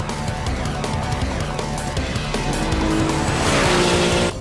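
A lightweight carbon-bodied Porsche of about 700 horsepower roars at high revs while racing in the Wangan Midnight game, its tires squealing into a loud, sustained screech near the end, with no talking.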